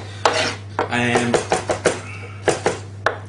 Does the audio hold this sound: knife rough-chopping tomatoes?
yes